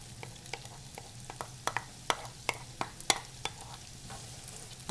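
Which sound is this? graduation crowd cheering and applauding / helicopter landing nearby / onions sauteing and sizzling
onions sauteing and sizzling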